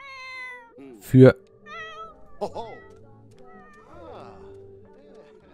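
A sick cat in The Sims 4 meows several times, short rising and falling calls scattered between a man's speech and game sounds, close and clear.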